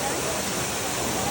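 Dharagiri waterfall during the rainy season, a loud, steady broadband roar of falling water that fills the whole moment without pause.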